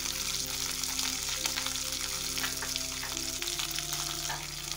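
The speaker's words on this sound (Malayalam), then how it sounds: "ഇനി അതിലേക്ക് നമുക്ക് നമ്മുടെ കറിവേപ്പില ഇട്ട് കൊടുക്കാം." Curry leaves and garlic frying in hot oil in a pan, a steady close sizzle and crackle with faint stirring clicks throughout.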